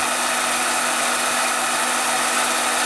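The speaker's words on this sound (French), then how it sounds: "J'ai inversé le sens de rotation pour que la lime soit envoyée plutôt à l'opposé de moi." Rotating power tool driving a file in reversed rotation: a steady high whirring grind holds constant and loud for the whole stretch, with no pauses or talking.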